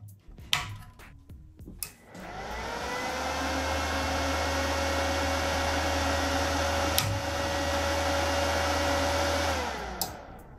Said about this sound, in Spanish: para mayor salida del calor tiene este ventilador en la parte trasera, el cual no es muy ruidoso